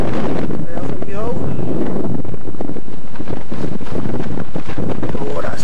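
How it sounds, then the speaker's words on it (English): Cold wind on Ben Vorlich, a Scottish mountain, buffeting the microphone in loud, continuous rough gusts, with a voice heard briefly amid the roar. "Oh, that's a cold wind."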